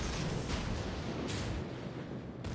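Secondary naval guns fire in World of Warships. The broadband roar of the gunfire is loud and sustained, with sharp bursts rising out of it, and nobody speaks.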